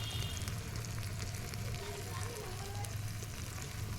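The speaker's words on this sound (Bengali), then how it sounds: "একটুখানি নেড়ে দিলাম হলুদ গুঁড়োটা ধনে গুঁড়োটা দিয়ে" Chicken curry with turmeric and coriander powder being stirred in a pot over a wood fire, a continuous soft sizzle and frying crackle with a low steady hum beneath, close and fairly quiet.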